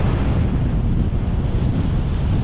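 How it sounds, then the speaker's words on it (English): Strong headwind buffets the microphone during a ride near Gainesville, Cooke County, Texas, giving a loud, steady low rumble throughout with no voices. "Keep fighting this headwind"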